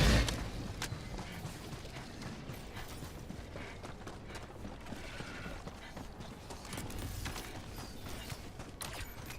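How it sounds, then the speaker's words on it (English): Mechanical clacks and ratcheting of a weapon being reloaded in the Helldivers 2 video game, close and fairly busy against a steady layer of game ambience. "Reloading!"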